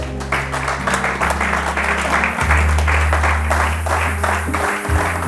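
A church congregation applauds the Lord with loud, dense, continuous clapping that fills the space, accompanied by sustained low organ or keyboard tones underneath.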